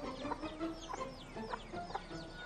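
Several chickens cluck and chatter around a rural yard, overlapping calls repeating irregularly at moderate distance over faint background noise.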